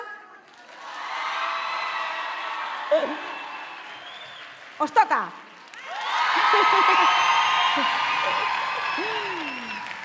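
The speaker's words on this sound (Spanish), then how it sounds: "con este aplauso fuerte vamos a recibir a la próxima comparsa" A crowd at the Errenteria carnival troupe presentation claps and cheers in two loud surges, with whoops and children shouting. A short spoken remark and a brief dip come between the surges.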